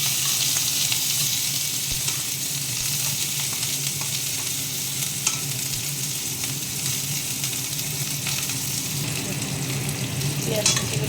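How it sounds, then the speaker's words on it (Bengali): Chopped onions with whole cumin seeds and dried red chilli sizzle steadily in hot oil, a dense continuous frying hiss close by with occasional stirring scrapes, no talking. "পেঁয়াজ কুচিগুলো দিয়ে দিয়েছি। এবার এটা ভেজে নিব।"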